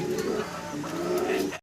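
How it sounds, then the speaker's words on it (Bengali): A male deshi golla pigeon calls nearby, its deep, rolling coo running almost without a break for over a second and a half before stopping abruptly. "ডাকাডাকিতে ব্যস্ত নর।"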